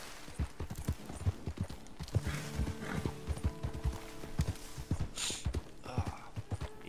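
Horse hooves clip-clop in a hunting video game, a steady rhythmic trot of sharp close thuds with a whinny and a faint mechanical clatter mixed in.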